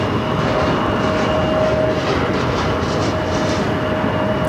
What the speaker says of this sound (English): Southwest Flight 2773 coming in from Birmingham on a 737-700.